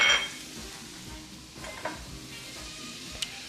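Butter sizzles in a hot cast iron pan with a soft continuous hiss, broken by a few light clinks and stirring scrapes.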